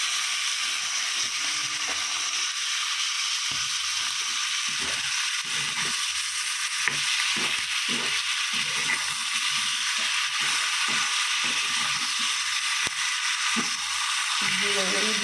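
Onions frying in a pan until reddish-brown, a steady soft sizzle and hiss running throughout at an even level, close and alone with no talking.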